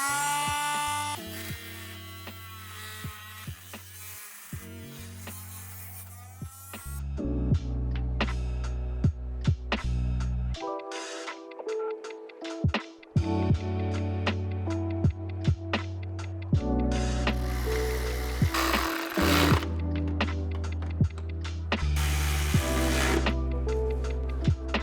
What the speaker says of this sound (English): So we're just gonna cut it right now with the Dremel.